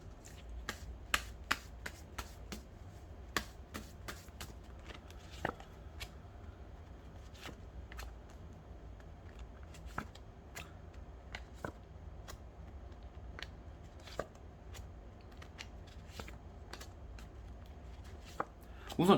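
Tarot cards are drawn and laid down one after another, giving sharp, scattered snaps and clicks at irregular intervals over a low, quiet background.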